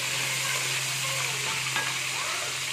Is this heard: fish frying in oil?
yes